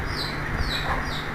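Fayoumi chickens, about three months old and kept for sale, cluck intermittently against a steady background hum and noise, fairly faint and not close.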